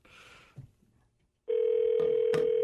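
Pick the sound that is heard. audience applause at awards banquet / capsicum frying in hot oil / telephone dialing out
telephone dialing out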